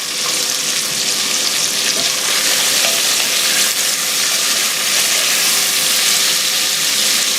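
Sliced sausage pieces sear in a hot pan for a Dublin coddle, a loud, steady crackling sizzle that runs unbroken from start to finish with no voices over it.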